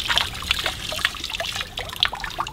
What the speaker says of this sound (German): dann kommt das Wasser hier unten raus.